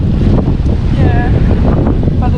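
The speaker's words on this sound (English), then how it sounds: "the wind has picked up" Strong wind gusts buffet the microphone at a town beach in the evening, a loud continuous roar with surf mixed in and brief voices breaking through.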